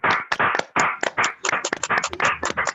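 Scattered applause from a few participants over unmuted microphones, uneven separate claps and taps close to the mic, brief and clustered rather than a full crowd.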